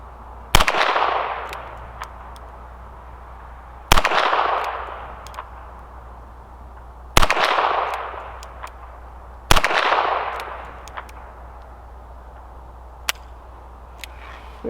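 Four .22LR shots from a Ruger GP100 ten-shot revolver crack out a few seconds apart at an outdoor range, each followed by a long fading echo, with a faint distant ping of a steel plate hit.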